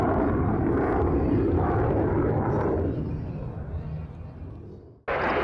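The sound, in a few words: F-16 fighter jet flyby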